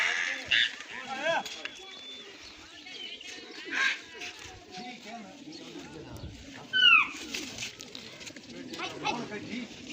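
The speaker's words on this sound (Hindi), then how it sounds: "ये देखें कबूतर उड़ रहे हैं।" Pigeons flown in a village pigeon-keeping hobby at dusk, with soft cooing and brief bird calls heard faintly amid outdoor ambience while someone talks throughout.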